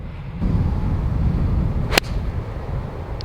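A single sharp click of a golf driver striking a Titleist Pro V1 ball, sudden and crisp, over steady outdoor wind noise.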